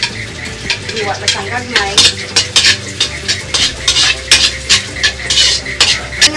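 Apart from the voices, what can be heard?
garlic frying and being stirred in oil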